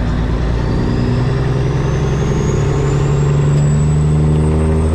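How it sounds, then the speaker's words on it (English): Heavy truck with a multi-axle trailer as its lift axles are raised, a steady loud engine drone with a hissing air sweep rising through the sound, continuous and close, no talking. "The lift axles, you have to toggle them around every corner and they lift up so you can actually make a corner."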